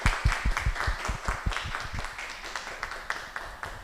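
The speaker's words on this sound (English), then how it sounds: "Big round of applause." Light applause from a small audience at a dementia-inclusive society event, a handful of close, rhythmic claps that soften and spread out over a few seconds.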